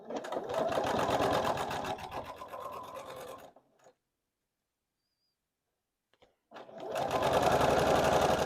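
A sewing machine stitches a quilt block seam in two close, loud bursts of rapid rhythmic needle chatter, separated by a few seconds of silence, with no talk.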